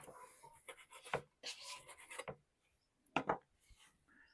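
A knife cuts potatoes into large chunks outdoors while preparing a hunter-style potato dish over a fire, giving a series of close scraping and chopping strokes in uneven bursts, with a short pause before a final pair of cuts.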